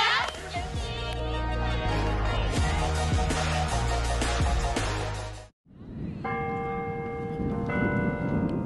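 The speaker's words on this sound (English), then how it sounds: "The bells bring the student body to the yard." Campus bells ring out across the quad at Howard University, a full layered peal that cuts off abruptly, then a quieter sustained set of bell tones continues after a brief silence; voices may be faintly present.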